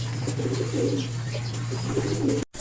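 A racing pigeon coos softly in a loft, a few low murmuring calls over a steady hum, then a brief cutoff near the end.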